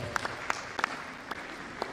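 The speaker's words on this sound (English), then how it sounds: "Please give them a round of applause." Lecture-hall audience applauding speakers at a bursary lecture, a brief spatter of hand claps with a few sharper individual claps standing out, moderately distant and fairly quiet, with no talk over it.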